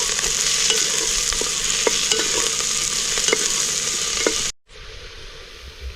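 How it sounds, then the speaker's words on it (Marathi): Capsicum sautéing in a pan for pav bhaji gives a steady, loud sizzle with scattered spatula scrapes and taps, then cuts briefly and returns as a thinner, quieter hiss. "पहिल्यांदा ढोबळी मिरची थोडीशी परतून घ्यायची"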